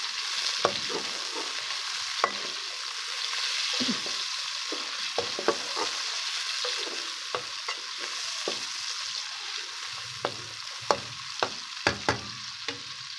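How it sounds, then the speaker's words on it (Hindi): Onion and tomato sizzling steadily in a hot pan, with occasional scrapes and taps of a spoon stirring, close up and without talk. "अब इन तीनों चीज़ों को अच्छे तरीके से हम फ्राई करेंगे।"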